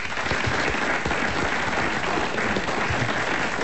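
Studio audience applause on a French comedy radio show, dense and steady from start to finish, filling the room without letup.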